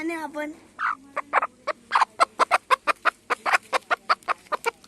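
A broody hen in the Konkan clucks in a rapid series of short, evenly spaced clucks, close and clear, following a few drawn-out vocal calls at the start, with little else in the background.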